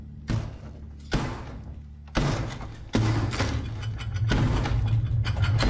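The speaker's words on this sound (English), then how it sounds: "Hey, cut it out. You're gonna break the door." Forceful banging on a door, a series of about five heavy thuds spaced unevenly, each ringing out briefly, close and loud with no voices.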